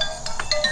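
A mobile phone ringtone plays in an Ilocano drama scene: a short run of bright, high electronic chirps, fairly close and clear, with no talking over it.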